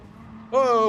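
A race car in Gran Turismo Sport lets out a short, rising engine whine right after a low idle-like hum, brief and fairly loud in a single burst.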